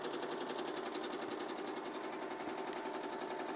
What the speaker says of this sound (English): we are still embroidering on the sweatshirt, so we don't want anything to sink in